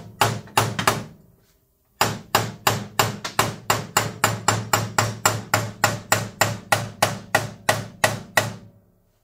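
A hammer strikes a John Deere lawn tractor axle part to drive it into place: a few loud, close blows, a short pause, then a long, steady run of about twenty evenly spaced ringing hits.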